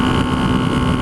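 A 1976 Honda CB125S motorcycle engine cruising in sixth gear, giving a steady, loud low drone with a constant pitch, mixed with heavy wind buffeting from riding without a windscreen.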